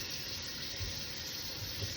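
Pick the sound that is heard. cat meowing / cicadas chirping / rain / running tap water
running tap water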